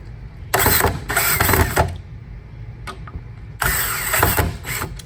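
A model 677 sweeper motor, not yet anchored, starts up and runs with loud mechanical whirring and rattling in two long bursts, dropping to a quieter hum between them, close by.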